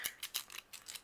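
Zigzag-edged craft scissors cutting cardstock or paper during cardmaking, a series of about six crisp, close snips in quick uneven rhythm, heard alone.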